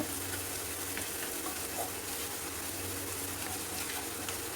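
A clam fry mixture with salt sizzles steadily in a pan, a continuous moderate frying hiss with faint scrapes of stirring, no voices.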